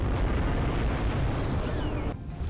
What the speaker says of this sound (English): You're the one making all the explosions.